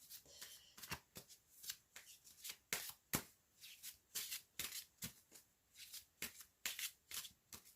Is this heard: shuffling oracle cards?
yes